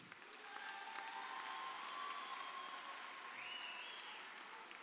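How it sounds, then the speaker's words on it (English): Audience applause for two fighters after a bout at a New Breed 8 fight night, a steady sustained clapping from a large crowd lasting throughout, fairly distant with a faint whistle rising near the end. "give both these fighters a round of applause for starting the evening off."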